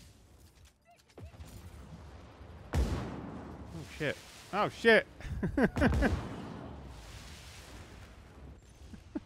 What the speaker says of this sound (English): Oh, it fires fireworks!